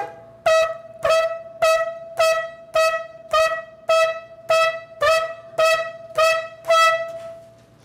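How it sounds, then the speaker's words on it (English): Shofar blowing shevarim: a series of about eleven loud, evenly spaced short blasts, each a broken staccato horn note with bright overtones, heard alone with no talking. "shivarim. It is a broken staccato sound."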